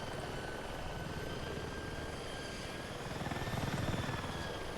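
Apache attack helicopter flying low in the Battlefield 6 game, rotor thumping steadily as a loud continuous beat that swells slightly toward the end.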